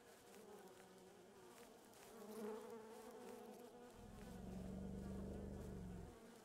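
Flies buzz in the video game Animalia Survival, a soft, steady insect drone with a louder, lower buzz swelling in near the end, heard alone without speech.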